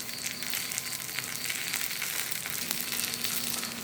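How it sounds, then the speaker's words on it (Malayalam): Masala dosa frying in oil on a hot pan at home, giving a steady, close crackling sizzle with fine spitting pops that runs unbroken throughout, with no voices. "ഇനി നമുക്ക് ഇതിൻ്റെ മുകളിൽ എണ്ണ ഒഴിച്ചു കൊടുക്കാം."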